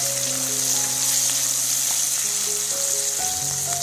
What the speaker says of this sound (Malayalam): നമ്മൾ നേരത്തെ അരിഞ്ഞു വെച്ച സവോള മൊത്തം എടുത്ത് നമുക്ക് അതേ എണ്ണയിൽ നന്നായിട്ടൊന്ന് വഴറ്റിയെടുക്കാം.